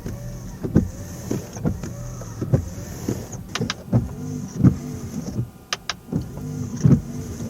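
Newly replaced car windshield wipers sweep back and forth with soft, regular rubbery swishes and faint motor whir, fairly quiet, with occasional light clicks and no chattering.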